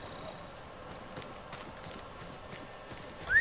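A horse gallops in Ghost of Tsushima, its hooves clip-clopping in a quick, steady rhythm at moderate volume, with a faint whistle-like tone rising at the very end.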